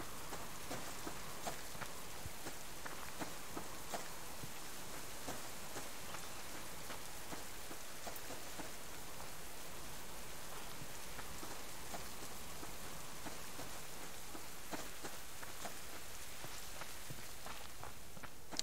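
Steady rain in the video game Subsistence patters continuously on a surface, a dense, even hiss of drops that holds through the whole stretch without voices.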